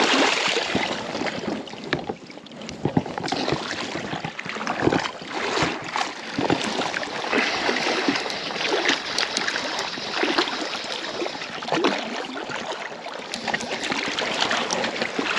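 Oars work a boat through the water while a fly line trolls behind, giving rhythmic splashing and dripping strokes with steady rushing water, close and continuous.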